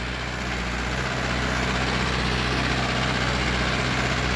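Steady, loud engine drone of a Mahindra or John Deere tractor running in a farm field, a constant low rumble with no breaks and no talk.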